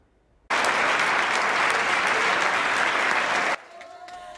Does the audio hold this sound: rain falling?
no